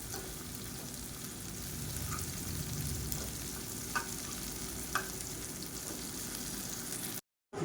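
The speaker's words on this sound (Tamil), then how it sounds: "இந்த மாதிரி அப்பப்போ திருப்பி விட்டு நல்லா மொறு மொறுன்னு வர அளவுக்கு வேக விட்டு எடுத்துக்கலாம்" Raw banana pieces fry crisp in a pan, with a constant close sizzle and occasional scraping clicks as they are turned, before a sudden short cut to silence near the end.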